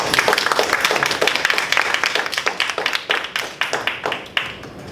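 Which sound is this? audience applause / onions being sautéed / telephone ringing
audience applause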